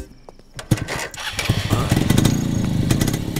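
A motorcycle engine starts with a sharp catch, then revs and runs steadily and loudly as the bike pulls away, close and unbroken over a few seconds.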